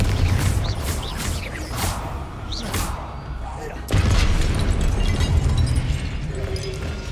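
A Confringo blasting-curse explosion in Hogwarts Legacy booms loudly over sustained rumbling battle noise, with a second heavy blast hitting partway through amid continuous game effects.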